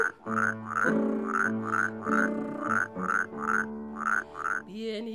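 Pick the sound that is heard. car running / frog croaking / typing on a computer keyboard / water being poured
frog croaking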